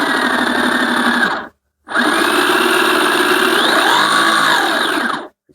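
A brushless motor with a gearbox whirs loudly at high speed on a bench, cuts out briefly, then spins up again with a rising and falling whine before stopping.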